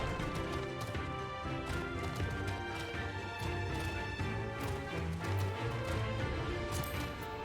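Rapid hoof clopping from several horses in Final Fantasy XIV: Stormblood, with a busy game-like backdrop of thuds and tones, steady throughout at moderate volume.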